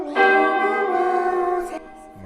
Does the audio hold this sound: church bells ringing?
yes